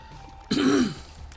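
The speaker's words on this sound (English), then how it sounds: "Sorry for clearing my throat." A single short, rough throat clearing, close and fairly loud, standing out against a quiet background.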